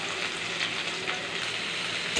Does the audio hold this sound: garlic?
yes